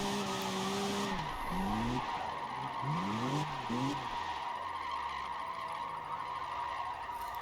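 Car tires skid and squeal as the rear end slides out, a loud wavering screech that rises and bends in several bursts over an engine revving, fading toward the end, with no talk.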